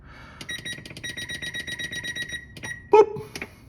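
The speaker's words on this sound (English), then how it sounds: "Let me put a timer on." A timer being set gives a quick run of rapid electronic beeps followed by a few separate button beeps, clear and close with no talking over them.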